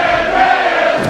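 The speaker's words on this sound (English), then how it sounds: "The crowd, though, fully behind San Andreas." Loud, sustained crowd roar at a wrestling match as fans cheer for San Andreas, a dense wall of voices close and continuous.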